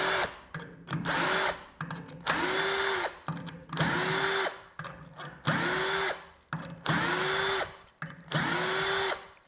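A THE BLACK TOOLS TB12A cordless drill loosening screws, running in about seven loud sustained bursts with the motor pitch settling as each screw backs out, separated by short pauses.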